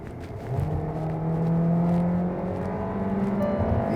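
A Hyundai Tucson engine revs under acceleration while the automatic gearbox lags behind, a steady droning whir that swells and holds a rising pitch, heard from inside the car at fairly high level with no speech.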